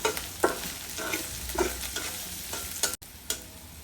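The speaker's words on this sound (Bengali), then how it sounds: "আর পেঁয়াজ কুচি দিলাম। একটু নেড়ে চেড়ে নিব শুধু নরম হওয়া পর্যন্ত।" Chopped onion with green chili stirring and frying in a pan, a steady low sizzle broken by several distinct spatula scrapes spaced through, close and moderately loud with no voices.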